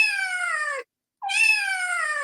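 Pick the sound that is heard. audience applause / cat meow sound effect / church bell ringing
cat meow sound effect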